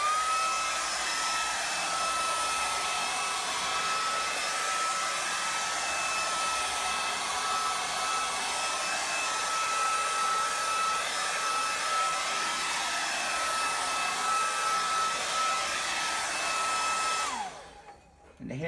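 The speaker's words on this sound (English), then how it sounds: "We can use a hair dryer and speed up the drying time" A hair dryer drying a leather finish blows with a steady, even whoosh close by, holding constant for a long stretch before switching off near the end.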